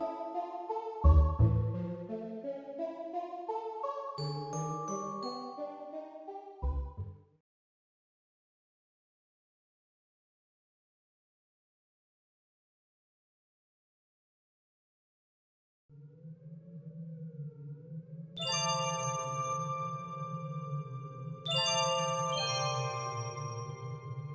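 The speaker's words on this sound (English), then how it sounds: "in the background we have those classic icicle-sounding glockenspiel bells to match the atmosphere at hand" Icy glockenspiel bells ring bright and high in the Zelda ice dungeon music of an abandoned, snowbound mountain home. An opening melodic passage gives way to a long silence, then the bell tones return over a low sustained drone.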